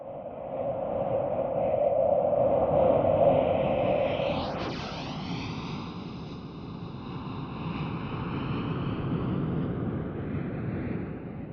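A simulated jet engine, the Jet Scream Pass Strong preset, roars past with a sweeping pitch shift, the whine dropping sharply mid-pass before the broad rumble fades away.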